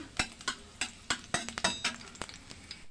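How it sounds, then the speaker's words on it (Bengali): Chopped garlic frying in oil in a wok as it is stirred, a low sizzle broken by repeated sharp metallic scrapes and taps of a spatula, close and irregular, with no one talking. "কয়েকটা রসুনের কোয়া এভাবে কুচি করে নিয়েছি দিয়ে দিলাম তেলের মধ্যে একটুখানি নাড়িয়ে চাড়িয়ে নিচ্ছি"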